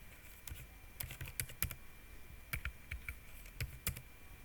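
Computer keyboard typing while searching for a Python extension in VS Code: scattered irregular key clicks, close and moderately loud, with short bursts and pauses, no voices.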